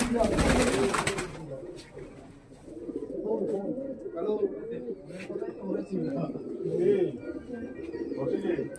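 Caged fancy domestic pigeons such as Madras and Andhra birds coo in overlapping low, rolling calls, close and continuous after a brief loud burst at the start, with a voice talking among them.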